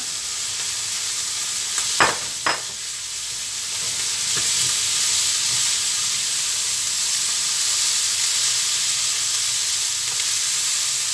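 Bean sprouts sizzle and hiss steadily in a hot pan, with a couple of sharp utensil clinks against the pan early on and no voices.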